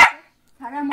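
A dog gives two close, loud barks separated by a short silence.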